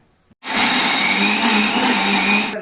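A mixer grinder kicks on abruptly after a short silence and runs at full, loud, steady whine while grinding pumpkin seed paste with milk.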